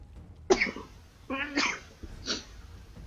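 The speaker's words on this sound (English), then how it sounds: "I just have to sneeze." A single sneeze from a man during a video game session, a sharp burst followed by breathy after-sounds and a second softer exhale, close to the microphone with no talking.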